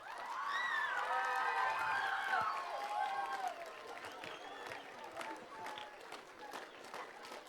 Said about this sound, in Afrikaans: die kinders en die ouers vir die onderwysers lekker aan 'n klap gee